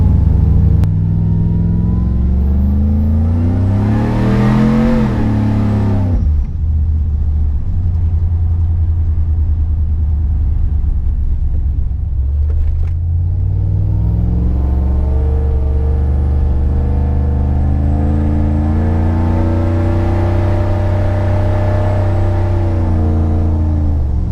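A 660-horsepower supercharged Chevrolet Tahoe drives along the road, its engine droning loudly and steadily while the pitch rises and falls with shifting speed.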